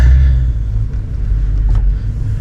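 A car turning around on the road, with a steady loud low engine rumble and road noise throughout, no voices.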